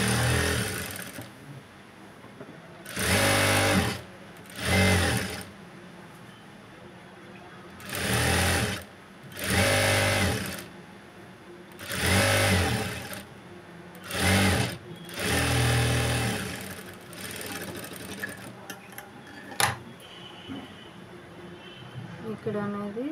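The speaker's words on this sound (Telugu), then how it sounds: "లైనింగ్ క్లాత్ని పై క్లాత్ స్టిచ్ వేసుకుందాము" A sewing machine joins lining cloth to a Punjabi dress top in repeated loud, close whirring bursts of stitching, with someone talking in the gaps between runs.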